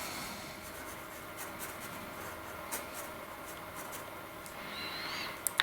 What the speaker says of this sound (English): So what I'm going to do there is draw one here